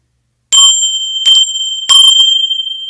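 Tingsha bells are struck three times, each a bright, close metallic ding with a sustained high ring that carries on between and after the strikes.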